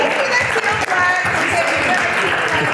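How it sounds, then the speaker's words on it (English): An audience gives a round of applause, steady dense clapping lasting throughout with a voice faintly mixed in beneath it. "Let's give a round of applause for that."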